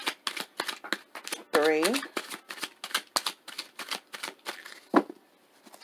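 Rapid papery flicks of tarot cards being slide-shuffled, a steady riffling rhythm, with someone speaking briefly over it.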